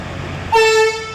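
Train horn from a passing express, a single short tonal honk that starts abruptly and cuts off after under half a second, loud and close over a low rumble.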